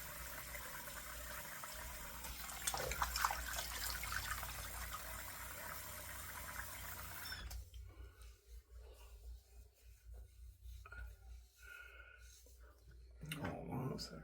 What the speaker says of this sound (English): Doing a hot rinse.